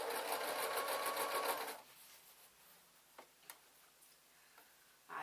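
Sewing machine hemming upcycled denim, a short loud rapid stitching burst of about two seconds, then it stops and only a few soft clicks and taps follow.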